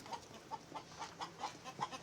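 Chickens cluck in a quick repeating series of short calls, close by, with a faint steady hum underneath.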